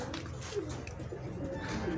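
Pigeons coo softly nearby, low rolling murmurs repeating over a quiet background.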